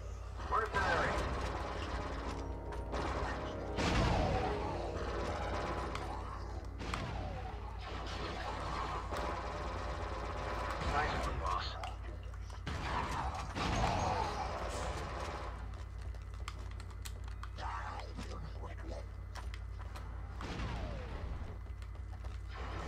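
Elevator machinery in the video game Star Wars Republic Commando: a loud, constant low mechanical drone and rumble with occasional clanking surges and bursts layered over it.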